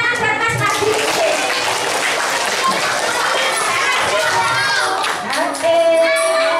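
A crowd of children applauds a pupil at a school Isra Mi'raj commemoration, loud dense clapping filling the whole stretch with excited chatter and shouts mixed in, dipping briefly before surging again.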